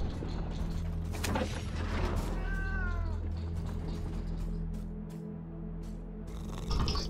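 A cat meows in the video game Moonscars, a single drawn-out wavering call rising over a steady low game ambience and hum, followed by a quieter stretch with faint mechanical and door-like sounds.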